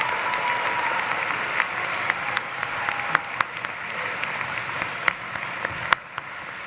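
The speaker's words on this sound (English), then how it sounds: "Let's give a round of applause for our economics graduates." Steady applause from a graduation crowd in an arena during a 2023 commencement ceremony, sustained throughout with a few sharper individual claps standing out near the end.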